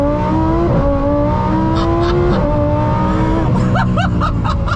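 A supercharged Lamborghini Huracan STO engine revving hard and loud, with rising and falling pitch sweeps through gear changes and rapid bursts toward the end.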